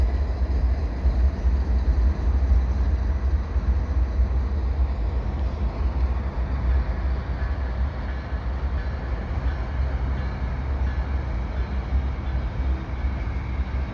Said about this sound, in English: it looks like it's going to be the unit potash train probably